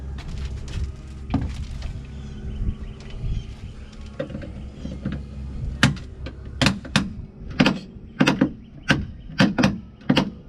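Cabin door of a Bayliner Ciera 2450 project boat is handled and removed, producing a run of rattles, scrapes and sharp knocks, then a series of loud, evenly spaced thumps toward the end.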